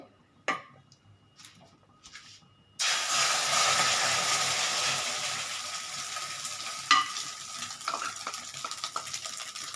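A beaten egg mixture with onion and a splash of milk hits a hot pan with a sudden loud sizzle, after a few faint clinks, then keeps hissing steadily and slowly fades with a few utensil taps.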